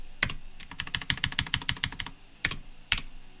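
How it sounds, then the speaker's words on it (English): Someone types on a computer keyboard in a quick burst of crisp, close key clicks, then pauses before two final louder keystrokes, with no voices. "I'll just keep typing"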